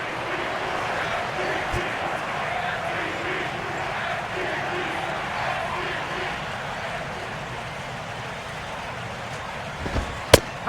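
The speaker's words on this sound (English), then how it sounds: "Oh, and the crowd will boo here." A baseball stadium crowd in the video game MLB 12: The Show boos in a sustained, broad roar, close and steady, with a few sharp knocks near the end.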